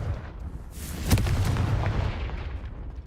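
A Confringo spell explosion in Hogwarts Legacy hits as one deep, booming blast that swells up and then rolls away over a few seconds, with no talk.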